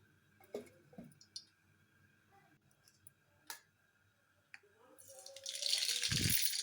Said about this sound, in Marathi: जिरे मोहरी तडतडल्यानंतर